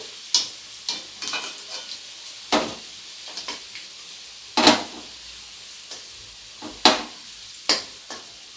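Potatoes frying in oil in a pan give a soft, low sizzle under a run of irregular, sharp clinks and scrapes from a utensil stirring and lifting them, close by and with no speech.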